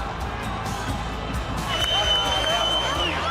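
A home crowd at a Tallaght Stadium football match roars and cheers in the closing minutes, with whistles and shouts rising over a steady wall of noise while a commentator talks.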